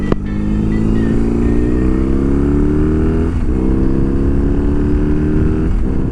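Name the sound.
BMW R 18 Classic motorcycle being ridden on open road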